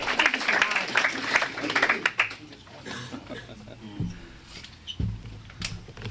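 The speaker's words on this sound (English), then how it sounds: "they give everybody a rousing applause when they get up to tell a story" Lively clapping from the audience at an AA speaker meeting rises for a couple of seconds, then dies away into scattered claps, chuckles and murmuring voices.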